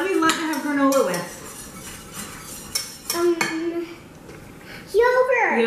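Granola being stirred in a pan with a metal spoon, scraping and clinking in short bursts with pauses between, while a child and an adult talk nearby.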